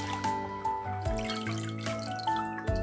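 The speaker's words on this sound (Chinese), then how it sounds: "倒入清水，把车前草啊彻彻底底的过洗干净" Fresh plantain leaves with seeds are washed in salted water, with light dripping and trickling splashes under steady background music.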